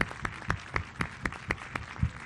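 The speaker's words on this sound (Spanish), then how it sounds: "Un aplauso a las tejedoras de la patria" An audience at the opening of a women's center in Juárez, Chihuahua claps in a sparse, rhythmic pattern, about nine distinct claps at a steady pace, moderately faint and slightly distant.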